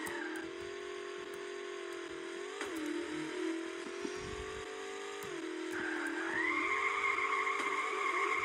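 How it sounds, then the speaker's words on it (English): A car drifting in an arcade racing video game, sustained engine drone with tyres squealing through a long slide, the pitch dipping and then rising as the car accelerates out of it. "Oh, that was a good drift."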